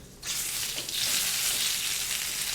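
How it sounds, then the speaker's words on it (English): Chicken kebab brochette sizzling on a cooking fire, a bright steady frying hiss that starts abruptly and continues close and loud without speech. "I should be putting my brochette on the fire"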